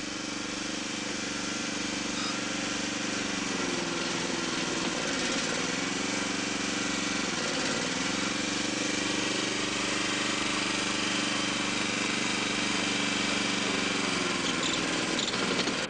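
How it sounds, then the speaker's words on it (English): Track machine driving Pandrol rail clips home over insulators on loose-relaid railway sleepers, a steady loud engine drone with a few pitch sweeps as the machine works along the rail. "The pandrel clips and insulators are now placed in position, ready to be driven home mechanically."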